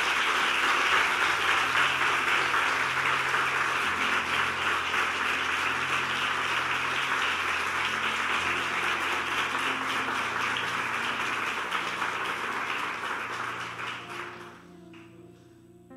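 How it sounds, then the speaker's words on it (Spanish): A church congregation claps steadily during a Spanish-language worship service, a full, sustained wash of applause over soft sustained keyboard tones, fading out near the end. "Dale el aplauso al Señor."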